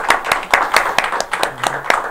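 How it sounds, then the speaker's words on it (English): Audience clapping for a guest, Phyllis P. McNeil, on a local talk show in El Monte: a short burst of hand claps with distinct individual slaps, moderately close and steady for about two seconds, with no speech over it. "Let's have a round of applause for Phyllis."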